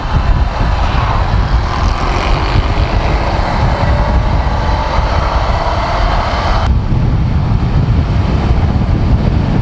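A 2017 Ducati Monster 797 motorcycle engine droning loud and steady during a ride, with the pitch climbing gradually before dropping abruptly as the gear changes, wind rush throughout.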